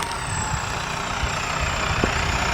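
A tractor engine runs steadily on a tobacco farm, a constant low rumble at even loudness with no clear change in pace throughout.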